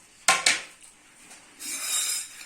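Dinner of luchi, cucumber and meat being served onto plates: two sharp clinks of dishes close by, followed by softer scraping and rustling clatter.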